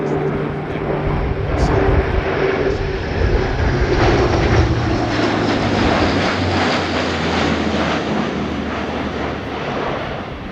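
A German Air Force Airbus A400M Atlas turboprop transport roars steadily through a flying display at an airshow, loud and sustained, with a droning propeller hum that shifts slightly in pitch as it passes.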